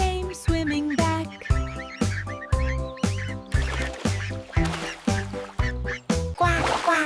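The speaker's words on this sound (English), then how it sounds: "Mother duck said, quack, quack, quack." A children's sing-along about five little ducks, with a quacking duck voice repeated in a steady rhythm over a bouncy musical backing, each quack short and bright.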